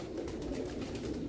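Ali breed pigeons coo softly in a low, steady murmur, faint and continuous across the brief moment with a slight background hum.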